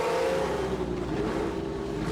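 A small jeep engine in a video game whines and revs steadily at high pitch, a continuous buzzing drone like a sewing machine motor with a slight dip in tone, fairly quiet overall.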